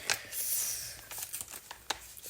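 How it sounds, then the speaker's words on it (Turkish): Adhesive tape is pulled and torn nearby, a long ripping stretch followed by several short, sharp tearing bursts. "O yüzden biraz bant sesi falan gelebilir."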